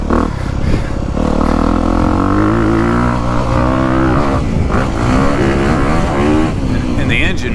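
A dirt bike engine, either a 2022 Honda CRF250R or a 2021 KTM 350, chugs at low revs without the clutch pulled. It gives a loud, continuous rumbling drone with shifting tone throughout.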